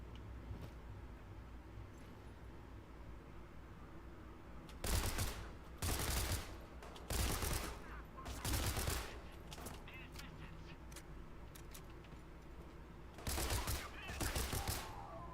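Bursts of automatic gunfire sound from a Lovecraftian survival horror video game, arriving in several loud clusters over a quiet background hum.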